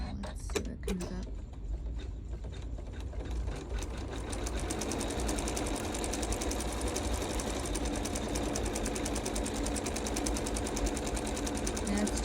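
Sewing machine stitching a zigzag appliqué stitch on a snowman rope ornament: a rapid, even mechanical chatter that starts after a few seconds of handling noise and runs steadily to the end, close and clear.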